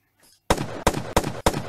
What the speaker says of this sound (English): I'm gonna get a seizure from these gunshots.